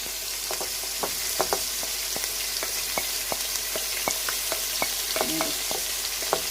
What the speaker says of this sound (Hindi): अब इसमें जाएगा 1 टमाटर, लहसुन अदरक का पेस्ट,